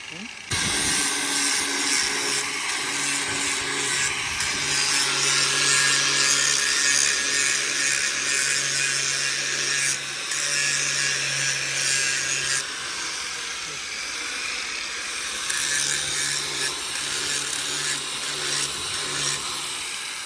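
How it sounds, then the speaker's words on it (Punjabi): An angle grinder grinds down a machine shaft while a reaper machine is being fitted, a loud, sustained harsh whine with steady grinding texture that runs almost unbroken for about twenty seconds. "ਹੁਣ ਆਪਾਂ ਇਹਨੂੰ ਗ੍ਰੈਂਡਰ ਮਾਰ ਕੇ ਥੋੜਾ ਜਿਹਾ ਡਾਊਨ ਕਰ ਲੈਣੇ"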